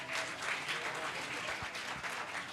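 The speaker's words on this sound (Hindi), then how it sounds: "जोरदार तालियां बच्चों के लिए जरूर बजाइएगा" An audience claps for a children's play about Veer Bala Kali Bai, a quiet, steady wash of applause heard from a distance with a few low thumps mixed in.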